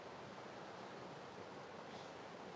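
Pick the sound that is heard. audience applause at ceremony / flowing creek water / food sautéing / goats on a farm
flowing creek water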